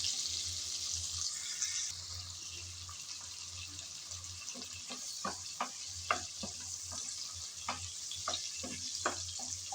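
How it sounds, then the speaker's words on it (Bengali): Shrimp lightly frying in oil while being stirred, a soft steady sizzle with a run of sharp utensil taps and scrapes partway through, close but fairly quiet, with a low hum underneath and no talking. "কিছুক্ষণ নেড়ে চেড়ে হালকা করে চিংড়ি ভেজে নিলাম।"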